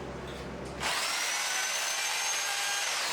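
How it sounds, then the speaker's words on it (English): A jackhammer kicks on after a brief low rumble and runs as a continuous loud, harsh whine. "that's called a jackhammer."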